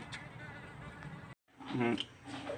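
Worker honeybees at a hive make a close, droning buzz that fluctuates in pitch, briefly cut off, then returning louder alongside a speaking voice.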